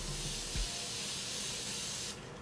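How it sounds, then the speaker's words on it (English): A short hiss of Morphe Continuous Setting Mist sprayed onto a face, a steady close airy spray lasting a couple of seconds with no talking over it. "I'm gonna take my Morphe Continuous Setting Mist and spray my face"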